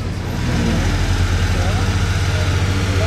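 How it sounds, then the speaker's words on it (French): Ferrari 812 with a modified exhaust and Novitec wheels, its engine idling in a steady low rumble close by, with a faint rise in revs near the end. "c'est la 812 qui fait un bruit de fou"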